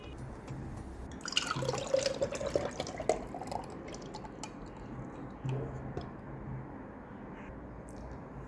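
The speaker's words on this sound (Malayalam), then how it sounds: "ഇതൊരു ജാറിലേക്ക് മാറ്റാം." Cooled boiled milk poured into a jar, a soft liquid trickle and splash rising for a few seconds, then settling into quieter dribbles and small clinks near the microphone.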